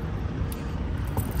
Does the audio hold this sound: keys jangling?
yes